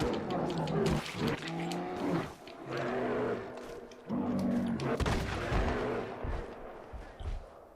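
An angry bear roaring as it fights in the video game Red Dead Redemption 2: loud, close, guttural roars and snarls come in several long bursts, broken by sharp thudding impacts.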